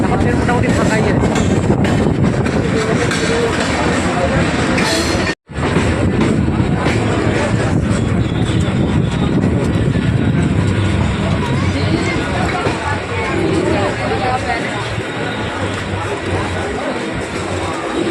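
A Kolkata circular rail train runs from Dum Dum toward Majerhat with a loud, continuous rumble and rattle throughout, briefly cutting out near the middle, with faint murmuring voices under the noise.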